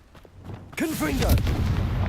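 A Confringo blasting spell explodes in the Hogwarts Legacy game. After a faint start, a sharp blast hits with warbling, voice-like tones, then a sustained rumbling crackle follows.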